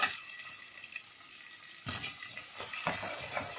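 Onions fry in a pan for Egyptian mixed mahshi, with a quiet hiss that swells into a louder, steady sizzle partway through, close and without talk.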